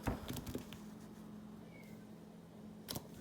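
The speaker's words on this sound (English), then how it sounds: "Hear my cat out there wanting to come in" A cat meows outdoors, wanting to be let in, with faint, brief calls over a steady low hum and room noise, plus a couple of louder knocks or bumps near the start and end.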